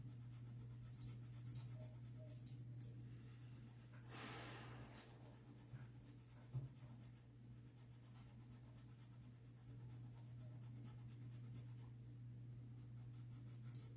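A dry brush works in small circles over drawing paper, a soft continuous scratchy rubbing that stays faint and close over a low steady hum, with no talking.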